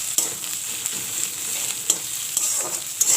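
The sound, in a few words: spice masala frying in oil for ghugni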